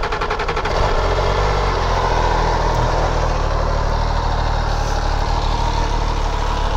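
A stock-exhaust MV Agusta F3 RR sport motorcycle, still fitted with its catalytic converters, idles in neutral with a loud, steady burbling close by, after a few sharper pops at the start.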